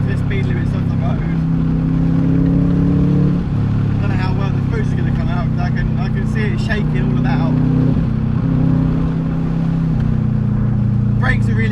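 A Subaru Impreza WRX Prodrive engine drones steadily from inside the car on a back road during spirited driving, its low tone shifting as gears change, with someone talking throughout.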